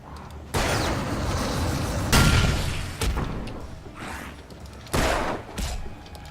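Gunfire from the video game Alan Wake: a run of loud, close, booming shots fired in quick bursts, with short gaps between volleys.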